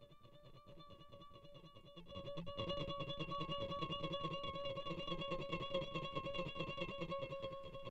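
A thick coin scrapes along a wound electric guitar string with no effects, making a faint, gritty, ringing drone with a rough texture. It swells louder after a couple of seconds and holds for several more, with no talking.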